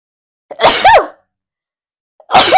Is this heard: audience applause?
no